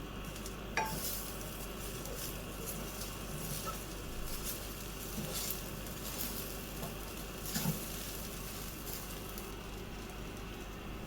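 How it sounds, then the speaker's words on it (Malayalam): Bread upma with grated coconut and coriander leaves being stirred in a pan, a soft continuous low sizzle with faint scraping and occasional light utensil clicks, fairly quiet and close. "ഇനി ഇതെല്ലാം കൂടെ നല്ലതുപോലെ ഒന്ന് ഇളക്കി മിക്സ് ചെയ്യാം"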